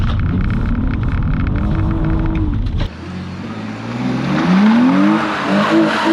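A rear-wheel-drive BMW E46 sliding in a closed private car park: a steady engine drone, then a sharp change into rising revs with squealing tires that grows louder toward the end.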